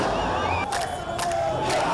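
An emotional crowd shouts and cheers around a bus carrying released prisoners in the occupied West Bank, a dense wash of voices with a few sharper cries rising out of it.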